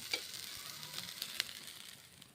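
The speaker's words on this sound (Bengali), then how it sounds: "বাটার দিয়ে ভেজে নিচ্ছি" Ground green pea paste fries in butter in a hot pan, giving a faint, soft sizzle with a few light stirring scrapes, steady and quiet with no voices.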